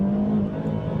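A 2014 Chevy Sonic LT engine revving under manual shifting, a close, steady droning hum with a strong low tone that holds briefly.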